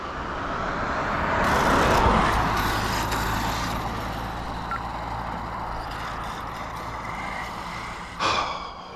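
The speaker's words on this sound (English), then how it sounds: "I got the slash 4x4 out here." A Slash 4x4 RC car makes a speed pass outdoors: a broad motor whine and road rush swells to a peak, then trails off, with a short sharp knock just before the end.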